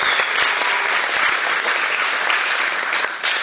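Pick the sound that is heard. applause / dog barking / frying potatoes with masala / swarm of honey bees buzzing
applause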